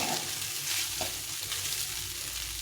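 Leftover cooked rice fries in a pan for fried rice with a dense, continuous sizzle and a few soft stirring scrapes, close by and steady throughout, no talking.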